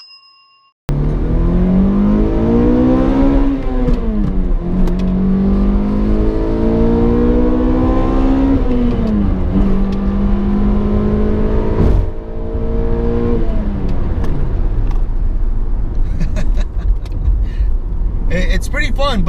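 A 2006 Toyota Corolla XRS with VVTL-i, its engine revving repeatedly toward an 8,000 RPM redline, loud and close, each rising whine climbing in pitch then dropping back between pulls.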